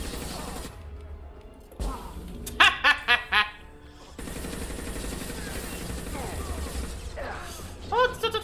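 Gunfire in the video game Mass Effect 2, with a burst of rapid shots in the middle and another quick volley near the end, set against game ambience and voices.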